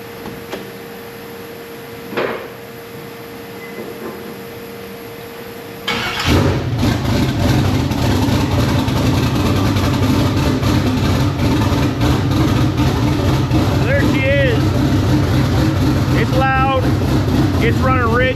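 A turbo car engine running rich fires up after a quieter stretch with voices and settles into a loud, throaty, steady idle close by, with some chatter over it.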